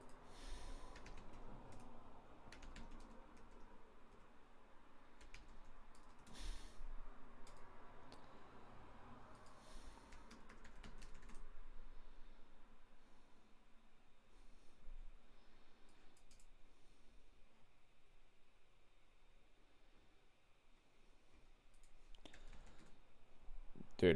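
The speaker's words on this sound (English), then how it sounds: "I'm typing help here" Quiet, scattered clicking of computer keyboard keys, heard in irregular bursts with pauses and soft breathing in between.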